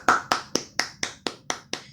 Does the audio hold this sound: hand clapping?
yes